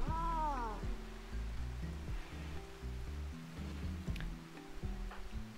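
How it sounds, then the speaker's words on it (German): Cats fighting in the video game RimWorld, with a rising meow-like yowl at the start followed by steady game music and ambient noise, fairly quiet overall with no talk. "Kann ich nicht gutheißen, Katze, dass du Katzen schlägst."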